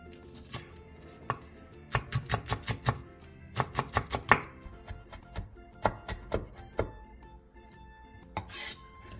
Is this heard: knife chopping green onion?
yes